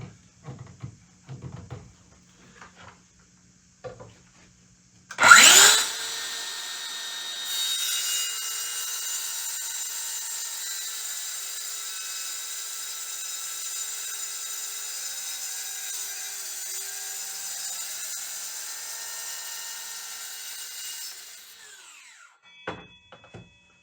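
A Dewalt DCS578 Flexvolt 60 volt 7-1/4 inch circular saw starts with a loud whine and cuts through solid aluminum in a long, steady, high-pitched grind before spinning down; faint handling noises come before and after.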